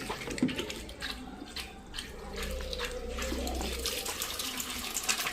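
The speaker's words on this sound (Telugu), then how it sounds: "ఇప్పుడు సెడిమెంట్ ఫిల్టర్ తీసేసి కార్బన్ ఫిల్టర్కి ఇన్లెట్లో మనం పైప్ పెడుతున్నాం" Water runs through the carbon filter of a domestic water purifier during servicing, a soft, continuous gurgling trickle with some splashing and drips, fairly faint and close, no talk.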